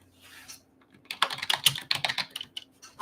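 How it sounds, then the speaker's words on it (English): Quick, uneven bursts of typing on a computer keyboard, clicking close and clear in a quiet room after a brief lull, with no talking. "Just typing a description for everybody that might be seeing this later."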